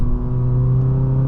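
A 2016 Honda Accord Sport with the 2.4-liter engine pulls under light throttle from inside the cabin, a steady humming engine note holding even and fairly loud throughout with faint road noise beneath.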